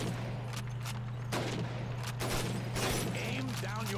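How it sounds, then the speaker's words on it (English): Rifle shots fired at bottles and plates on a shooting range in the video game Call of Duty 2, several sharp cracks spaced a second or so apart over a constant low hum, with voices talking between them. "Shoot those bottles and plates."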